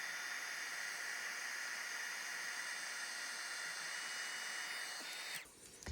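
A heat tool melting gold embossing powder gives a steady, close, airy whoosh of blowing hot air that runs unbroken for several seconds, then cuts off near the end.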